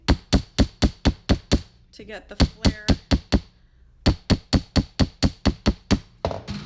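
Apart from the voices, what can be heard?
hammering copper wire for a tree decoration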